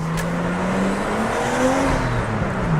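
A Nissan Skyline R33's 2.5-litre RB25 engine runs steadily nearby, its low drone rising and falling gently in pitch, with no talking.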